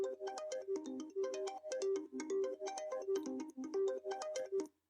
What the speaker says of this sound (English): put some distortion on it, a little bit of reverb and a little bit of sidechain to make it sound like this.